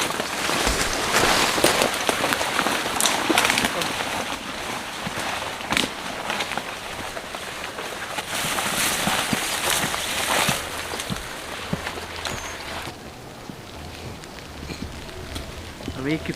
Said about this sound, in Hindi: बारिश हो रही है थोड़ी थोड़ी सी।